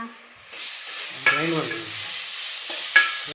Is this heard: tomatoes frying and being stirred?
yes